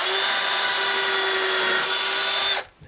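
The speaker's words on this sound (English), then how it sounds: "I'm going to take a drill bit a little bit smaller than the screw itself for a pilot hole." A power drill bores a pilot hole into a wooden gate while fixing a sticking latch, whirring loud and steady up close for about two and a half seconds before cutting off abruptly.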